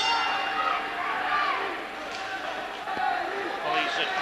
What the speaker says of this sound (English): Noisy crowd.